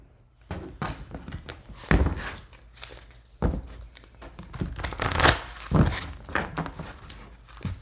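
Tarot cards shuffled by hand between readings, a series of soft, close papery riffles and thumps in irregular bursts, fairly quiet with no talking.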